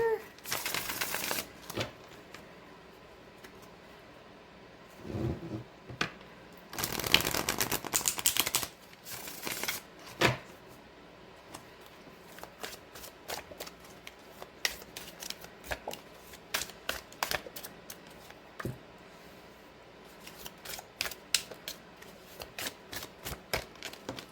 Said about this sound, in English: So I just want to shuffle and kind of like see how the cards look laid out together.